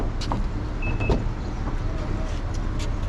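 A car being opened with a power window or motor whirring close by, steady road-vehicle noise underneath and a few sharp clicks and thumps over roughly three seconds.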